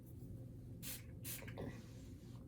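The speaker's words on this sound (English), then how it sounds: "Let's do some setting spray." Two short bursts of setting spray hissing from a makeup bottle, close and distinct, separated by a brief pause over low room hum.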